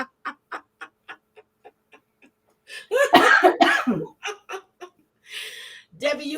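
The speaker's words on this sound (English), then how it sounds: "I just have a lingering cough." A woman's dry, lingering cough from a cold, several short cough bursts in a row at close range, followed by people talking and laughing.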